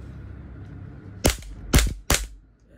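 A WE Raptor V3 gas blowback airsoft rifle running 12-gauge gas lets off three sharp, loud cracks close by, the last two in quicker succession, then falls quiet.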